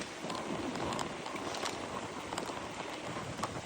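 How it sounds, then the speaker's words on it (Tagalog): Strong wind buffets the microphone on a mountain bike ride near Serpentine Falls, a constant loud rushing roar with gusty bursts and no voices over it. "Masyadong malakas ang hangin."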